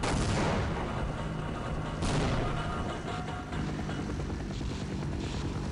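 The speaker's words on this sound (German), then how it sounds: "Ne, das ist ein Hubschrauber." A helicopter's rotor thumps over a dense, noisy roar in the video game Half-Life, with a sudden burst partway through, loud and continuous.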